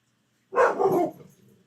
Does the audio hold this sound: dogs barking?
yes